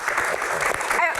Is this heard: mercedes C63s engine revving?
no